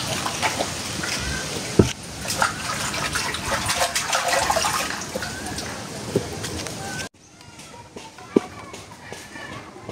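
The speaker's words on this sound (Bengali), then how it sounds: "এখন আমরা এই লিচুগুলো ধুয়ে ফেলবো" Raw lychees are swished and splashed in water, a busy, close wet sloshing with occasional sharp knocks under a speaking voice, which drops to quieter handling near the end.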